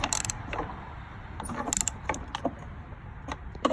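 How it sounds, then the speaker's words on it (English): Mastercraft ratchet tightening a bolt on a Craftsman tractor, a quiet series of quick irregular clicks in short bursts close by, with faint background hum. "we'll just use our Mastercraft ratchet from Canadian Tire to tighten it back"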